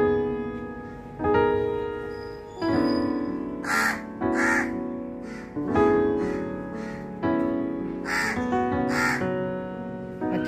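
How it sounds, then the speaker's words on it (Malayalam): Crows come to eat rice left out in the morning, giving loud, close, repeated caws in irregular bursts throughout, with several calls overlapping. "രാവിലെ കാക്കയ്ക്ക് ചോറ് കൊടുത്ത് കാക്ക ചോറ് തിന്നാൻ വേണ്ടി വന്നിരിക്കുന്നുണ്ട"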